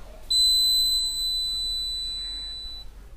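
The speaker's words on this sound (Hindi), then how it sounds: "तो देखना जैसे मैं हाथ को इसके सामने लाऊंगा कैसे ये बीप करेगा" A laser home security alarm for a school science project, triggered when a hand breaks the beam, sounds one sustained high electronic tone lasting a few seconds, loud and alone, with no talking.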